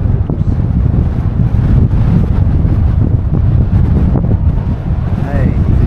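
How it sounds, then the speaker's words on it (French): Steady, heavy wind buffeting the microphone with a low roar throughout while cycling along the Loire, faint water or engine rumble beneath. "il fait du vent dans le nez"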